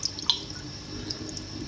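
Frozen mysis shrimp are swirled in a jar of water, giving faint sloshing and a few small splashy drips at close range, with no talking.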